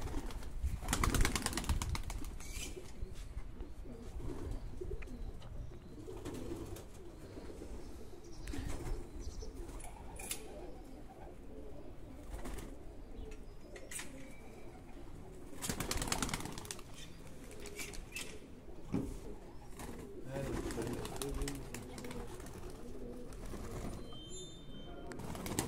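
Racing pigeons released at a pigeon club event in Baku, with wings flapping in bursts and soft cooing over a busy outdoor background, heard at moderate distance and without clear talk.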